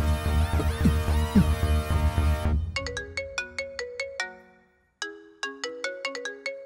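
A mobile phone ringtone plays a bright melodic pattern of repeated tones after a stretch of film music, pausing briefly before starting again.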